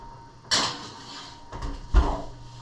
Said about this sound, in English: you can just hold it and put it right back in the oven